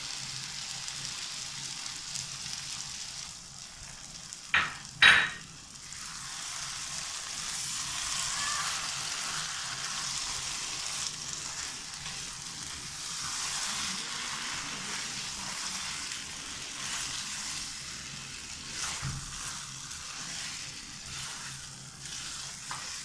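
Chicken korma cooking in a pan as cream goes in: a brief clatter, then a long, even hiss of gentle sizzling that carries on at moderate level.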